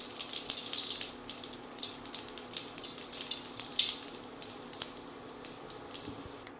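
Panch phoron seeds sizzling in about two tablespoons of mustard oil over low heat in a pan: a steady, close hiss of frying with small crackling pops throughout, no voices.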